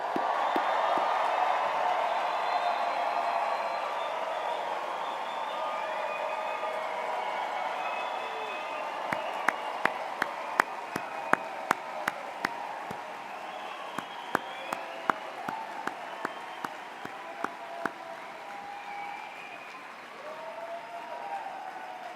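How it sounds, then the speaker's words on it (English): A large crowd at a 2024 veterinary medicine graduation ceremony roars with sustained cheering and applause, scattered sharp claps and whoops rising over the broad wash of noise before it gradually fades. "could you just get loud and make some noise for this group?"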